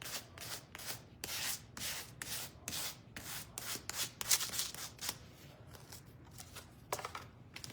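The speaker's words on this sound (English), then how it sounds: "I'm gonna do the edges a little bit more than I did when I first sanded it" Rough-grit sandpaper rubs the edges of a wooden spindle hot air balloon nursery craft in quick back-and-forth strokes, a close, rhythmic scratching of steady short bursts.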